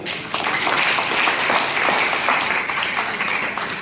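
An audience at a ceremony applauds, a dense, steady burst of clapping from many hands lasting several seconds, fairly loud and close.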